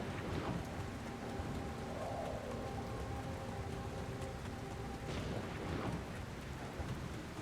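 Thunderstorm in the video game The Alters: steady heavy rain on surfaces with low rumbling thunder rolling beneath, loud and continuous throughout, with no speech.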